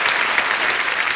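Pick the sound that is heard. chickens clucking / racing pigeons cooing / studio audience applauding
studio audience applauding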